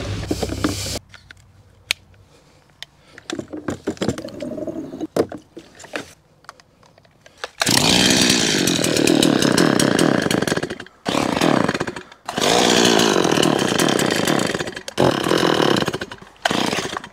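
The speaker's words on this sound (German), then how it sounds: "Die Kettensäge springt nicht an." A chainsaw engine is pulled repeatedly, sputtering into loud bursts that cut out again, close by with no talking.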